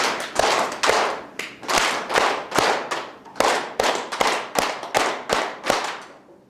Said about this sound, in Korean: 우리 늘 하는 거 치매 예방 박수를 한번 치고 또 하도록 하겠습니다. 337 박수.